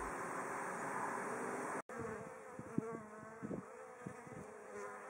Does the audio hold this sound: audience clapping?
no